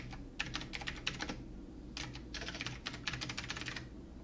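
Lesson name typed on a computer keyboard, rapid close key clicks in two quick bursts with a brief pause between, over a low steady room hum.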